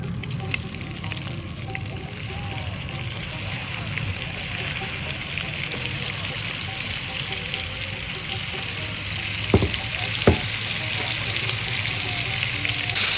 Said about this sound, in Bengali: এবার আমি চিংড়ি মাছ ভাজার তেলে পটলগুলো ভেজে নেব